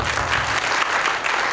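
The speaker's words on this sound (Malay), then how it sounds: "kita ucapkan tahniah dan beri tepukan yang gebur kepada diri anda semua" Dense audience applause at a seminar opening speech, a loud continuous wash of many hands clapping with no voice over it.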